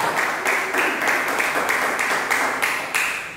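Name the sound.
congregation applauding in church service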